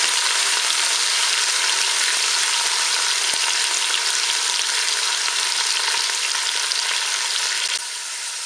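Onions frying in a Cookeo multicooker on its browning setting, a steady close hissing sizzle with faint stirring ticks throughout, dropping a little quieter right at the end, with no voices.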